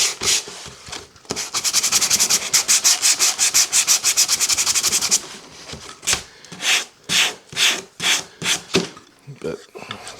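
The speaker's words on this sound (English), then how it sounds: "I'm going to take my 120 and I'm just going to sand to the edge." A wooden mitered box edge is sanded by hand with 120-grit sandpaper, first in a rapid run of short, close scratchy strokes, then in slower, louder separate back-and-forth rubs.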